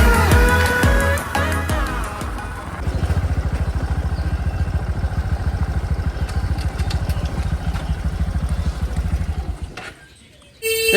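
A motorcycle engine runs steadily and up close while riding. It takes over from a short stretch of music and keeps an even, throbbing drone for several seconds before dropping away sharply near the end.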